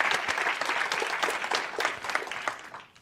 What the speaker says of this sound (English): So I want to give a round of applause for John for making this thing happen.